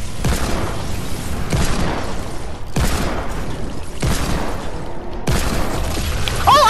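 Repeated heavy booms and bursts from eggs being destroyed in Fortnite, four loud impacts spaced about a second and a half apart, each followed by a noisy decay, close and dominant.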